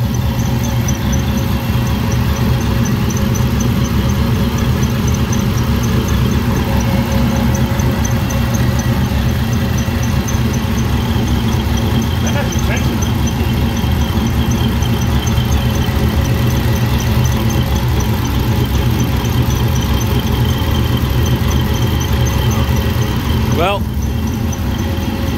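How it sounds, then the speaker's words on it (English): A Shelby GT500 engine runs loud and steady nearby, with a thin squeak from a wheel or belt tensioner that surfaces briefly over the drone, most clearly near the end. "A little bit of squeak on that wheel. Is that your tensioner?"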